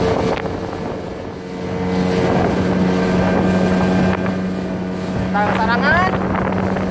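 A motorboat engine drones steadily while riding on Lake Sarangan in Magetan, East Java, with wind buffeting the microphone and people talking over the continuous motor noise.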